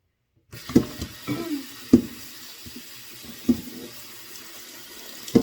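Eru (okazi) leaves are washed by hand in a silver bowl of water. The water gives soft irregular splashes and sloshes, separated by quieter gaps.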